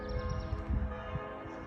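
A church bell rings in the distance in Upper Austria with a sustained, humming tone, while low thumps and rustling sit close by at a used car lot.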